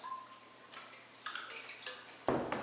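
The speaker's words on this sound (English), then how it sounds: "Put a little dribble of water along the length of the bar" Water dribbles along a paint-flooded fabric applicator bar, a quiet patter of drips and trickling with a louder splashy burst near the end, heard alone without speech.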